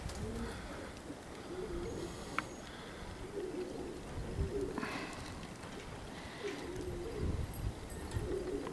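Several pigeons give low, throaty coos in repeated bursts nearby, over a constant background of outdoor wind and ambient noise.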